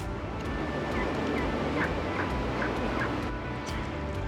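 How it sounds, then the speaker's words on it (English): A wild turkey gobbler gobbling in the Kansas outdoors during a windstorm, repeated rattling gobbles heard at mid distance over loud constant wind noise. "This gobbler's fired up, gobbling."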